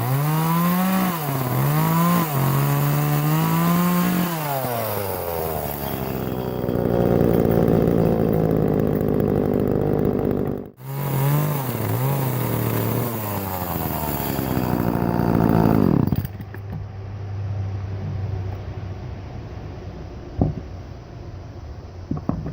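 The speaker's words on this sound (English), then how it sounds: "I'll take care of these with the chainsaw." A chainsaw cuts knobs off a piece of wood outdoors while a rustic shoe rack is being built. The engine revs hard and bogs under load, cuts out briefly midway, then winds up again before settling to a lower idle.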